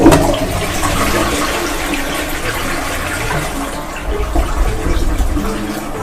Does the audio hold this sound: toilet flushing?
yes